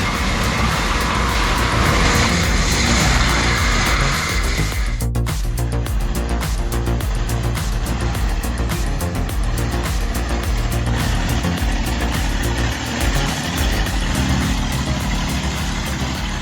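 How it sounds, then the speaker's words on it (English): A 74 HP Bobcat machine's engine running loud and close, with a steady continuous mechanical drone and rattle that shifts character partway through and carries on without pause. "This 74 HP bobcat charges uphill like a raging bull"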